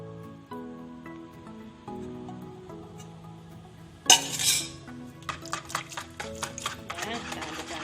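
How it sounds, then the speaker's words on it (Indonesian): Cake batter for a caramel honeycomb sponge cake is stirred in a bowl after melted butter is added, giving soft scraping and clinks of utensil against the bowl, louder bursts in the second half over quiet background tones. "kita aduk lagi"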